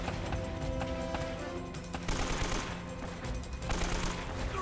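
Gunfire in the video game Uncharted: Drake's Fortune, loud bursts of shots crackling over a dense game soundscape, with heavier volleys around the middle and end.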